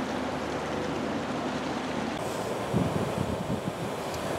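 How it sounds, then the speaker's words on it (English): A Jetboil MiniMo camping stove burns with a steady, close, broadband roaring hiss at a sheltered campsite on an abandoned stretch of the Pennsylvania Turnpike; the tone shifts slightly partway through, with no talking. "we got the Jetboil Minimo fired up"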